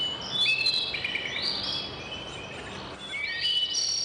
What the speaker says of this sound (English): Oh god, that bird's loud.